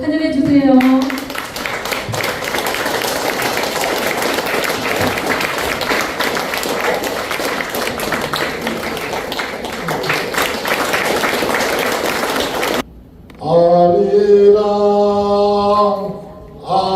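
Loud, sustained applause from a large audience at a book concert in Busan, then a sudden cut to the Korean folk song Arirang sung with drum accompaniment.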